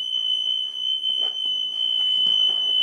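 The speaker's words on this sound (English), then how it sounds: "We have the back door back here that when you open it, the buzzer rings" A steady, high-pitched electronic buzzer on a school bus back door rings continuously and loudly when the door opens, with faint rustling and movement beneath it.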